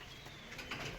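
Male pigeon, a white pied bird with a black-tipped beak, among giribaz and Pakistani pigeons, gives a soft low coo against steady background noise, brief and moderately near.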